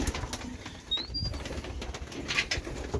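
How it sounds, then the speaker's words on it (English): Racing pigeons at a loft, with soft wing flaps and faint cooing against a dim, rustling background; a few brief higher chirps cut through. "Yeah, here are the birds."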